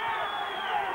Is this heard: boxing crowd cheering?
yes